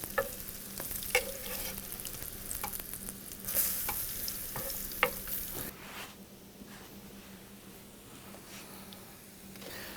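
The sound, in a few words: food frying in a pan after being turned over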